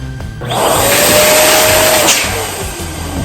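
An electric balloon blower roars loudly for about a second and a half while inflating balloons for a garland, holding a steady whine before cutting off, leaving quieter background noise.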